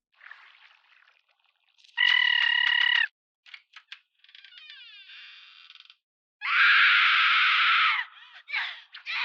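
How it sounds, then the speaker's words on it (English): A guttural scream from episode 11 of the anime Needy Girl Overdose breaks out in two loud, harsh, strained bursts, separated by shorter choppy, gurgling vocal noises and brief silences. "That was a guttural scream."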